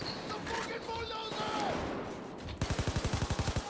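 Falcon rifle gunfire piercing armor in Payday 2 comes as a rapid, evenly spaced burst of loud shots near the end, after a stretch of busy in-game clatter and tones.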